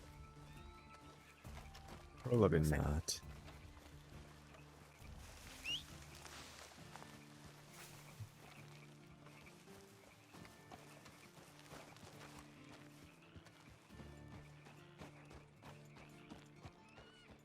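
A horse in the video game Red Dead Redemption 2, with one loud, close burst of whinnying and hoof sounds early on, then soft game ambience and a brief spoken reply.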